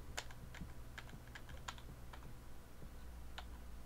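Computer keyboard keys tapped during gameplay of Terra Randoma, scattered quick clicks at an irregular pace, faint over a low steady background hum, with no talking.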